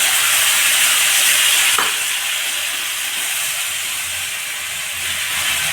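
Green chili, tomato and ginger paste hitting hot oil in a pan, a loud, dense, continuous sizzle that eases slightly after the first couple of seconds and stays steady.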